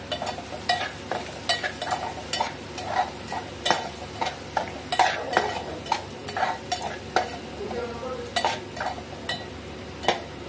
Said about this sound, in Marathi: आता गाईज आपण ह्याच्यामध्ये मसाले ॲड करूया आपण आणि मग शिमला मिरची ॲड करूया.